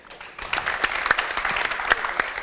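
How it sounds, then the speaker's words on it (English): Audience applause for two guests at a panel discussion on sustainable finance, a steady wash of clapping from a seated crowd, moderately loud and continuous throughout, with no talking over it. "Give a warm applause to our two guests today."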